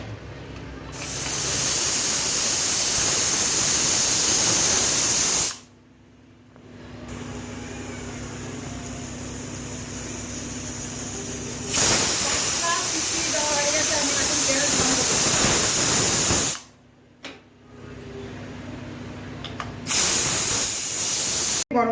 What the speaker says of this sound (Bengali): এখন আমি প্রেসারে সিটি দিব। আমি 4টা সিটি দিয়ে নামিয়ে নিব।